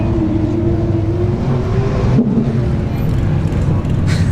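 Loud, steady roar of drag-racing engines as a 5th-gen and a 4th-gen Chevrolet Camaro run side by side at a dragstrip, a continuous droning blast filling the whole stretch.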